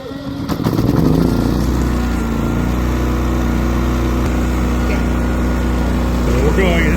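GENMAX portable generator with eco mode off, starting with a brief cranking rattle and then catching into a loud, steady, continuous engine drone that runs on close by without a break.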